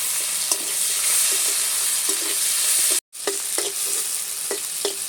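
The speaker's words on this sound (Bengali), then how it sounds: "দিয়ে দিচ্ছি পেঁয়াজ কুচি। আমি এখানে 2টো পেঁয়াজ কুচি দিলাম।" Chopped onions fry with whole cumin seeds in hot oil, a loud continuous sizzle with regular scraping stirs of a spatula, broken by a brief cut before the frying resumes.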